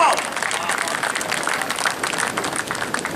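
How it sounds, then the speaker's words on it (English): Steady applause from a crowd at a coaching symposium for a coach, dense and continuous throughout with some voices mixed in. "give him a round of applause"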